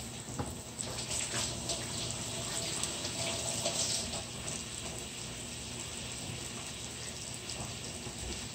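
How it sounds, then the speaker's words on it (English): Running tap water pours steadily over hands being washed in a kitchen sink, a close continuous splashing hiss that eases slightly midway, with no talk. "Again, I'm going to wash my hands."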